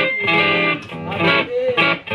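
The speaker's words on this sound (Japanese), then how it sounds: "リバーブめっちゃ効きますね、これは" Electric guitar played through a Blackstar Pathfinder 10 amp with heavy reverb, a few strummed chords and sustained notes ringing out with a lush, washy tail, loud and close with no talking.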